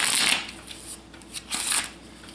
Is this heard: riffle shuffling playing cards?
yes